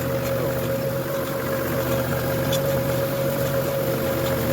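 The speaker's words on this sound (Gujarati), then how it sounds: "મિત્રો તો ખાસ મોટો ટ્રેક્ટર છે" Steady drone of a large tractor engine running, a constant low hum with a strong tonal line, close and loud throughout without pause.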